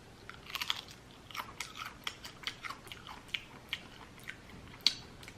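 Someone chews oven-baked vegan eggplant bacon with a smoky seasoning, making close, crisp crunching bites in a steady irregular rhythm with no talking.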